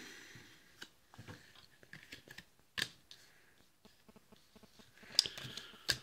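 Monopoly Deal cards drawn from a deck during a game: a scattering of quiet, close paper clicks and slides, with a sharper snap near the end, and no talking.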